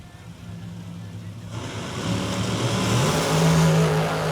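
A dragster launches on a drag strip, its engine roar swelling louder over a few seconds beneath an announcer's commentary.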